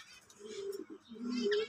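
Pigeons in a breeding loft give two brief, faint coos, close but quiet, with no voices.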